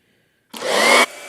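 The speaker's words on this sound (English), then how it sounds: "Blow dryer." A blow dryer switches on with a sudden loud, steady whoosh, holding for about half a second before cutting back to a lower running level, close and alone with no talk.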